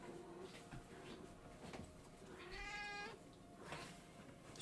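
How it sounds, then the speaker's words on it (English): A pet cat named Beans gives a drawn-out, wavering meow near the middle, faint and somewhat distant against steady room background. "She meowed."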